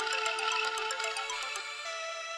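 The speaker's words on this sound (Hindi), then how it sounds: "मैडम जी का फोन आ रहा सर" A phone ringtone plays a bright, repeating electronic melody of quick pulsing tones, loud and close, ringing steadily with no voices over it.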